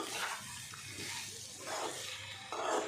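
Vegetables with red lentils, two chopped onions and chopped tomato sizzle in mustard oil and ghee tempered with coriander powder and black cumin, giving a faint, airy hiss that swells in short bursts as they are stirred.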